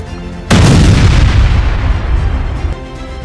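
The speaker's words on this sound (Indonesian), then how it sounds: "Ambil bom ini untuk mengebom mereka." A sudden heavy bomb blast erupts in a battle scene, followed by a long rumbling roar with scattered gunfire crackling through it, loud and close before fading slightly.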